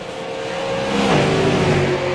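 Super late model race cars roar loudly around the Milwaukee Mile oval, engines swelling and shifting pitch as the cars pass, under a commentator's voice.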